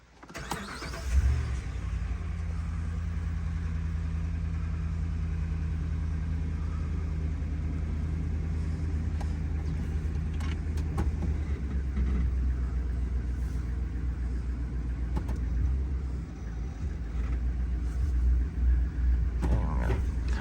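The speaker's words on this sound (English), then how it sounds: "we're gonna leave it idling" A RAM 1500 pickup truck's engine idles with a steady, low rumble that goes on without a break, with a faint higher whine and a few light creaks over it.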